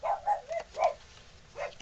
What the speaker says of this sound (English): Yes, I have dogs. Please disregard the barking.